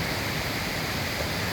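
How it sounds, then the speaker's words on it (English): A waterfall on a rural Pennsylvania property pours in a steady, broadband rush of falling water, close and even throughout with no voices. "Nice waterfall."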